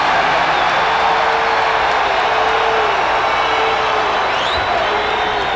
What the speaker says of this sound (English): I think the fans were cheering there because they called the foul on Michael Jordan